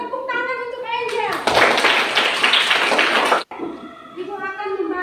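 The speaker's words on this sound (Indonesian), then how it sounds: "Tepuk tangan untuk Angel." A classroom of children claps together for a short burst, loud and close, bracketed by a voice speaking before and after.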